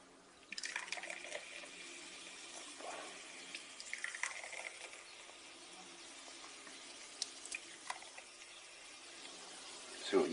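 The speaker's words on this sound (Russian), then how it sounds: "Наливаем в 3 бокальчика" Coca-Cola poured into three glasses, a faint trickling and fizzing with small splashes and clinks throughout, quiet and close.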